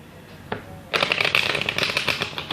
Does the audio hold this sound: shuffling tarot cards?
yes